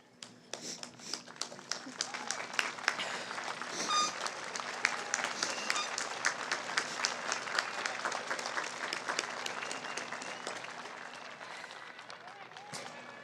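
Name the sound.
graduating class applauding their supporters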